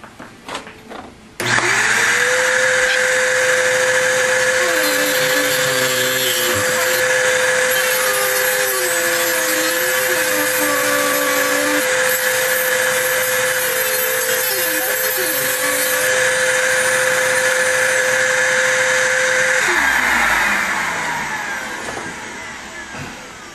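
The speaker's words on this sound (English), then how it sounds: "Going to use our Dremel tool again and get the vacuum cleaner going." A Dremel rotary tool cuts through an old wooden cleat on a MAME arcade cabinet while a vacuum cleaner runs alongside, a loud steady high whine with shifting pitch that holds for about twenty seconds, then spins down.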